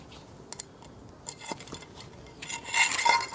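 Peanut butter lids on a found-object garland clink and clatter together in small, light metallic taps, sparse at first and then a busier, louder jangle near the end, close by with no talk.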